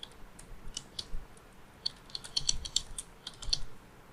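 Light, irregular clicks of keys on a computer keyboard while Python code is entered, soft and close, in small clusters separated by brief pauses.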